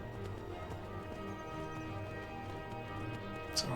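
Hooves of a horse gallop in Skyrim, a quiet rhythmic clip-clop under ambient game sound, with a short sharp accent near the end.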